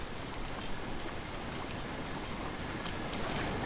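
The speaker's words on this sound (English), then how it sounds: "Oh yeah, the Divine Beast makes it rain." Rain summoned by the Divine Beast in Zelda: Breath of the Wild, a steady hissing downpour with scattered louder drop ticks, constant and even, and no talking.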